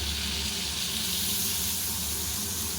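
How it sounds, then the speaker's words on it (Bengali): Water is poured into a pan of sizzling fish curry with yam, eggplant and potato. A steady rushing hiss of liquid hitting hot oil runs throughout, close and without speech. "এখন জল দিয়ে দিলাম"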